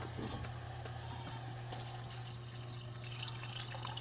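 Water runs steadily into a vessel, a constant splashy rush at low level over a faint background hum.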